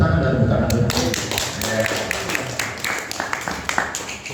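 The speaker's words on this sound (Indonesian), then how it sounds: "Tepuk tangan dan tepuk tangan." Crowd applause with a burst of clapping and tapping, loud and dense at first then thinning, with voices mixed underneath.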